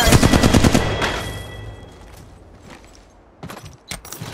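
Rapid automatic gunfire from a player's weapon in the mobile battle royale game Apex Legends Mobile, a loud burst of shots at the start that fades into a quiet tail, followed by a few sharper shots near the end.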